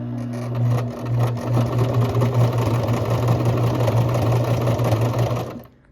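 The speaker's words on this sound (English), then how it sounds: "All right, so I sewed all the way around" A sewing machine threaded with red thread stitches around fabric scraps, a close, steady motorized hum with a rapid needle rhythm that runs for about five seconds and then stops.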